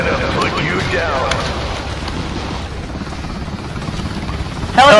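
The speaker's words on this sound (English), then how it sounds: "Helicopter's aiming in on y'all!" A helicopter in the Outbreak Origins virtual reality game thrums continuously at moderate loudness, with rotor chop and engine whine running beneath faint background commotion.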